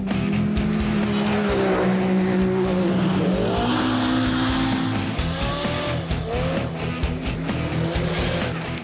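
Rally cars on a dirt road in Brazil's Rio Grande do Norte accelerate hard, with loud, close engines roaring and shifting pitch continuously throughout, several revving climbs overlapping.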